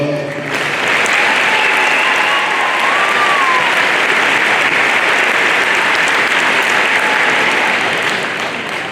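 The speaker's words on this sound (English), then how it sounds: "Another round of applause." A high school commencement crowd at Lapeer High School bursts into loud, dense, steady applause that holds strong for about nine seconds, with no talking over it.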